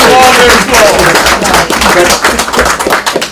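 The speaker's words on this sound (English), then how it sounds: "They really deserve applause because we weren't easy boys" Audience applause at an election night gathering, a dense sustained wash of many hands clapping with no pause, loud and close throughout.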